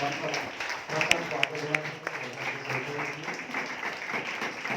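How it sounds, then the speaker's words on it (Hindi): A church congregation at a Christian worship gathering claps together, moderate and fairly near with a few sharp individual claps standing out over continuous applause and some murmuring voices. "आइए हम जोरदार तालियों के लिए सब लोग"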